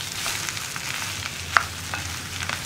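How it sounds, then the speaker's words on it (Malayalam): A mashed potato and onion mixture stirred in a hot pan, a faint steady sizzle broken by light spoon scrapes and one sharp tap partway through, with no voices. "നന്നായിട്ട് ഇളക്കി മിക്സ് ചെയ്തെടുക്കുക."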